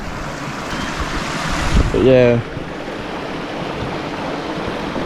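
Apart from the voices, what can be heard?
river waterfall rushing water in Tasmania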